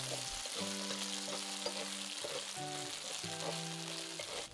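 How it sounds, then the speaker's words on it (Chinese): Chicken wings go into a hot wok over medium heat with fragrant spices and sizzle softly throughout, while a steady tonal hum runs underneath and no one speaks. "新香料都炒香之后，就可以下我们的鸡翅下去"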